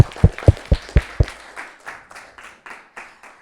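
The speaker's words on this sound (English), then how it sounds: "Let's clap for ourselves." A group of children at a scouts quiz event claps for themselves in a rhythmic pattern. About a dozen claps land in a steady beat: the first several are loud and sharp, then they fade to softer, distant pats.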